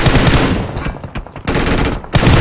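Rapid automatic gunfire from the mobile battle royale game PUBG Mobile, loud and dense bursts with brief gaps between volleys, close and dominant throughout.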